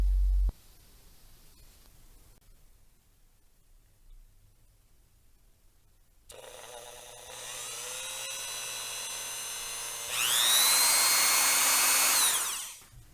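After a quiet stretch, a small power drill starts whirring while working on a wired cape for a 1/4 scale Hot Toys Batman figure, its high whine rising in pitch and loudness in two stages before it winds down.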